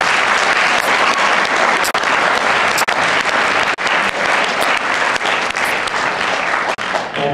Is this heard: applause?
yes